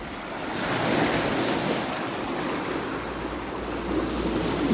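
Lake waves washing onto a beach, a continuous rushing surf wash with wind noise buffeting the microphone, swelling slightly toward the end, no voices.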